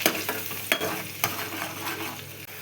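A paste of tomato, nuts, green chili and ginger sautés in a pan, giving a steady close sizzle broken by a few sharp scrapes of a stirring spoon.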